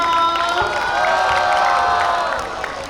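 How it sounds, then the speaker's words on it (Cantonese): A school gym crowd of students at a teachers-versus-students basketball match erupts in loud cheering, shouts and whoops mixed with clapping, holding strong before tapering off slightly at the end. "俾掌聲歡呼聲得唔得？"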